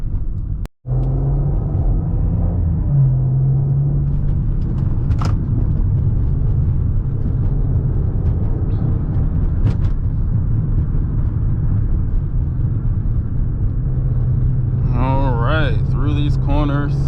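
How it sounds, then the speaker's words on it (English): A 2015 Maserati Ghibli in sports mode drives along, its engine a steady low droning rumble heard from inside the cabin, with someone talking over it near the end. "I'm going to leave this car in sports mode"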